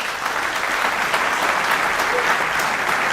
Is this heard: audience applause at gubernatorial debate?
yes